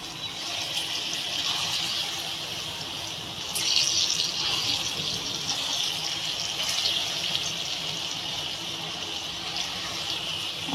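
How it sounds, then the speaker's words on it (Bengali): Chana dal fritters drop into hot oil and fry with a steady, close, broadband sizzle that holds evenly throughout and swells briefly partway through, with no talking. "আমার তেলটা গরম হয়ে গেছে, আমি এবার এই যে ছোট ছোট করে বড়াগুলো দিয়ে দেবো।"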